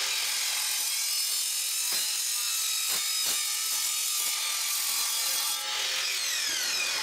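A loud, steady handheld saw grinding through 60 mm steel tube, a continuous harsh rasp with a few brief dips in the stroke, heard up close and without speech.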